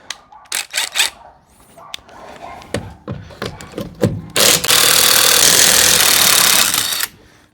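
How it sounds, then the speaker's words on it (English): A pneumatic impact gun rattles loudly in a workshop, a sustained burst of several seconds that comes after scattered clanks and knocks of work on an Invacar. "Where's my whizzy gun? That'll speed things up."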